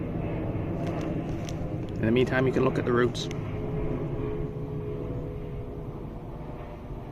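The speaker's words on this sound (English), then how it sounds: "Let me wait for this plane to go overhead because it's pretty loud." A loud airplane passes overhead, its steady low roar spread through the whole stretch beneath a person talking close by.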